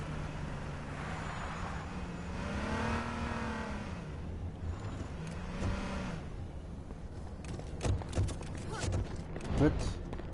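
A car engine in the H1Z1 battle royale game drives and revs, its pitch sweeping up and down in repeated surges, with sharp clattering hits near the end and people talking over it.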